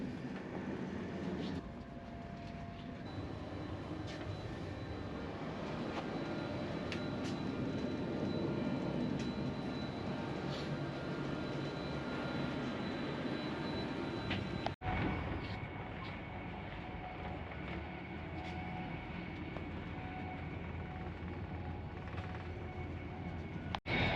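An Avanti West Coast Class 390 Pendolino train rumbles steadily at speed near Nuneaton, heard from inside the carriage as a continuous low roar with faint rail clicks.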